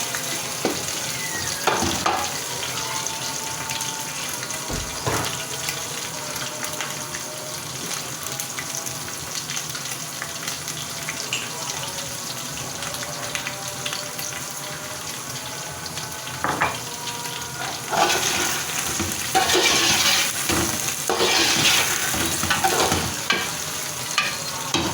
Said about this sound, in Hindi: तो मैं अब इनको थोड़ा सा फ्राई करूँगी। थोड़ा सा इसके अंदर मैं पानी ऐड करूँगी